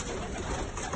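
Show pigeons coo softly at an indoor pigeon exhibition, a low steady murmur of bird calls over room ambience.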